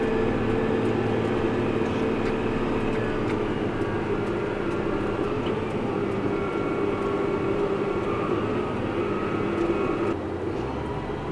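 A neighbor's light airplane flies over a bean field at harvest from his own private airstrip, a steady loud droning engine that holds through the whole stretch alongside machinery rumble.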